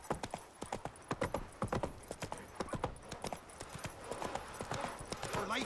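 Roach, the horse in The Witcher 3, gallops in a steady, rapid clip-clop rhythm of hoofbeats. The hooves are loud and close, with a faint whinny. Light game sounds sit in the background.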